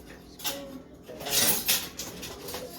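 A spoon or fork clatters against dishes while serving fried chicken stew, rice and red beans, a few short metallic clinks and scrapes at close range with no talk.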